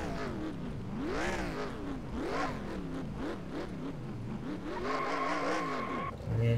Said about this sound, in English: doing some burnouts